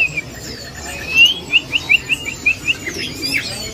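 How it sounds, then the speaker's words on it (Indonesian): An oriental magpie-robin, known locally as kacer, sings a bright run of repeated whistled chirps and trills, clear and fairly near, with soft background noise and no voices over it. "Oh, ini penampakan, Bos, rajanya kacer."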